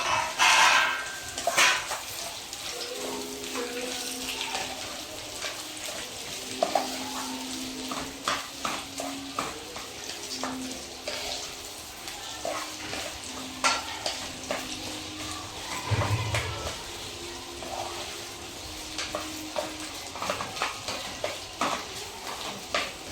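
Sweet potato slices roast in two spoonfuls of ghee, stirred now and then: a steady low sizzle runs throughout, broken by scattered scraping taps of a spoon against the pan, close up and with no voices.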